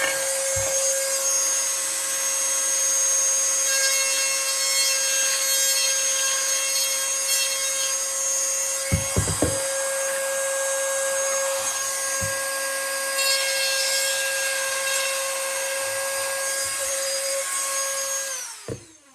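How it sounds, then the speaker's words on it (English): A small die grinder whines at a steady high pitch while enlarging a hole in a bench power supply enclosure, close and loud, with a few brief bumps and clicks before it spins down at the end. "We're using a little die grinder here."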